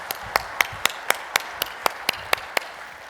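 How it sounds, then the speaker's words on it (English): Evenly spaced, sharp claps ring out at a steady rhythm, a sparse handful of hands rather than a full crowd, as an audience greets a sales motivational speaker at a live event. "And y'all start clapping."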